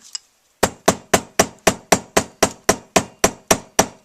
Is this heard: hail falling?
no